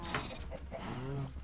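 Sheep bleating in the Minecraft survival game, several short wavering bleats in quick succession, fairly close, over a busy background.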